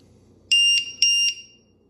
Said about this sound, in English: plug it in like so, and you're going to hear it beep